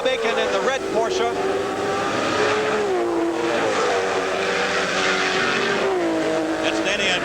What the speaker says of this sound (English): Fitzpatrick, Ted Field, and John Paul Jr. on the straightaway.